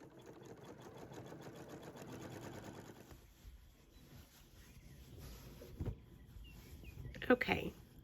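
A sewing machine stitches a quilt block onto a sweatshirt, a soft rapid whir running for about three seconds before stopping, followed by quieter handling noises and a few light knocks.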